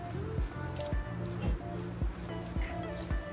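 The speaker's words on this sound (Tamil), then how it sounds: "நம்ம 2 ஃபோர்க்கு கையில் வச்சுக்கிட்டு இந்த மாதிரி செஞ்சோன்னு வச்சிங்கன்னா நமக்கு வந்து நூடுல்ஸ் வந்து உடையாமல் நல்லா வரும்" Two forks toss and mix Hakka chicken noodles, making soft, squishy strokes and light metal clicks in a steady rhythm about twice per second, close by.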